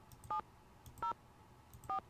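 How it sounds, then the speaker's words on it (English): Three evenly spaced touch-tone beeps as a telephone number is dialed in a Nancy Drew mystery video game, short clean tones heard alone against a quiet background. "Here, I'll try it with the area code this time."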